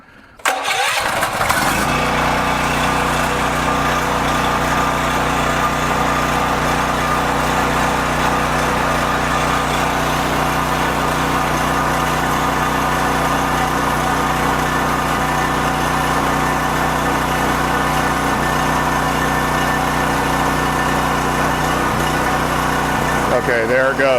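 A portable generator with electric start cranks briefly and catches, then settles into a steady, loud idle that runs on without a break; the generator has a fault that makes its idle surge.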